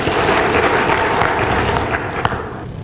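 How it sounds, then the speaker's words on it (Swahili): A burst of crowd applause at the Democratic Party of Kenya National Delegates Convention, dense clapping that holds steady and then tapers off at the end. "Makofi kwenu jamani."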